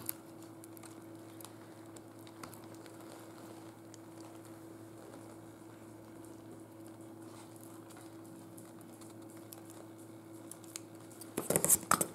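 Scissors snip through paper clay while making a craft Christmas fireplace: faint, scattered cutting clicks over a steady room hum, then a louder cluster of snips near the end.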